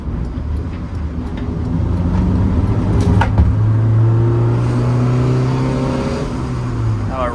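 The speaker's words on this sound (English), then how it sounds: "Rips like a piece of shit Honda." A Honda Civic EG engine revs while driving, its tone rising steadily through the gears as the car pulls, a close, loud drone that holds and slowly fades, with no voices.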